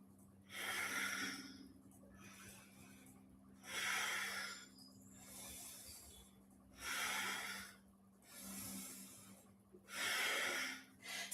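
Slow, deep breaths drawn and released through the nose during a kriya breathing exercise, each long airy exhale swelling and fading in a steady rhythm, close and alone.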